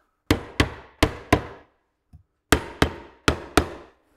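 Rubber mallet tapping down the roof of a wooden bee hive: four sharp, evenly spaced knocks, a short pause with a faint bump, then four more knocks, close and clear with no talking.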